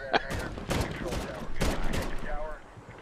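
Several sharp gunshots boom in quick succession during Medal of Honor combat, loud and close, each with a short ringing tail, with a little speech-like sound beneath.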